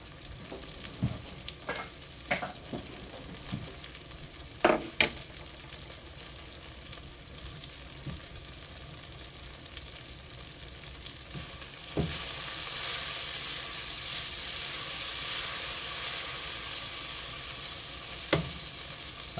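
Blistered tomatoes and garlic cooking in a pan beside boiling fresh spaghetti, scattered utensil clicks and scrapes at first, then a broad steady sizzle swelling up and holding through the second half, fairly quiet overall with no talking.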